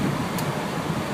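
Broadband road and wind roar fills a moving van driving with its windows open, a steady, loud rushing noise with no talking.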